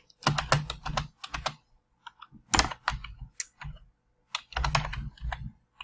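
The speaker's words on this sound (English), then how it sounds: "Forgive my typing, it's not the best." Bursts of quick, clattering keystrokes on a computer keyboard, close by, broken by short pauses between runs of typing.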